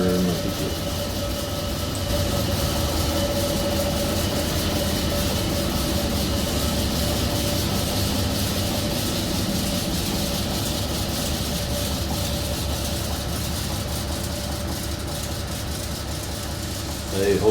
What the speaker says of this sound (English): This engine you're listening to here is one of the residue gas compressors.